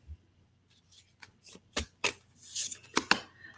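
A deck of tarot cards is shuffled by hand in short, irregular riffles and soft slaps, quiet and close, with brief pauses between bursts and no talking.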